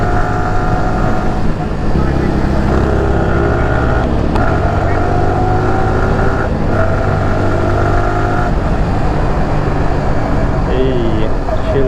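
Road traffic near Pililla, Rizal heard from a riding motorcycle: loud, close engine drone and wind with shifting revs, other motorcycles and vehicles blending in, and someone speaking over it.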